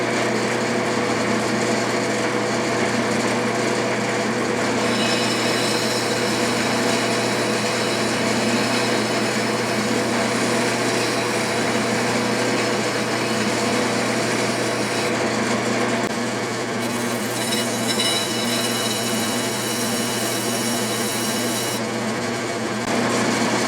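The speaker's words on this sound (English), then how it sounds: "that did a pretty good job of grinding the chisel" A steady, continuous grinding whine from an Atlas grinder hone as a chisel is ground freehand, with a constant motor hum beneath shifting scraping tones.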